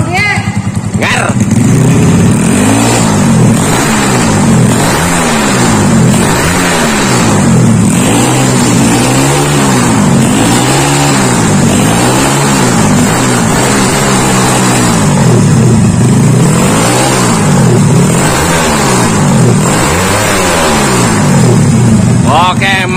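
A Honda Astrea Grand 125cc motorcycle with a modified engine revs hard again and again, loud and close, each rise and fall in pitch repeating in quick waves while people talk over it.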